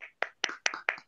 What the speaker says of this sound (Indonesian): berikan tepuk tangan meriah untuk Bapak Haryoko